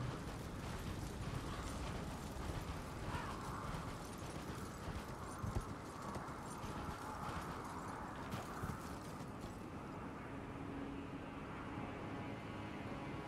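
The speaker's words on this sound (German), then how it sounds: "Aber wir reiten erstmal an dem vorbei," Horse galloping across open ground in Elden Ring, its steady rhythmic hoofbeats running continuously at moderate volume under a low ambient game rumble.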